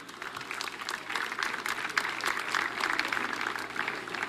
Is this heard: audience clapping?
yes